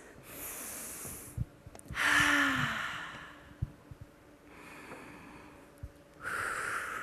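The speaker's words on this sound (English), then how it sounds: "as we take 2 more deep breaths" People in a conference room audience take deep breaths together, heard as soft airy inhales and long exhales swelling and fading in a slow rhythm, with a few small bumps and no talk.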